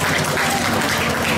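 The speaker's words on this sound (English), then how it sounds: "A big round of applause once again and thank Mr. Su for the wonderful speech" Dense, steady applause from an audience at a Mazu procession and Double Ninth Festival performance opening ceremony, loud and continuous throughout after a speech, with no talk over it.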